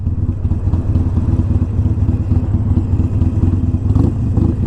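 Harley-Davidson Iron 883 motorcycle riding through town traffic at low RPM, a loud, close, rumbling engine with a rapid pulsing beat, steady throughout with slight revving swells.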